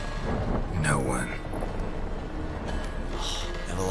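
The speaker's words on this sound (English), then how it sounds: "Didn't bargain for no storm." A thunderstorm rolls over the sea in The Witcher 3, with loud rumbling thunder and rain sweeping across the scene while a character speaks over the storm.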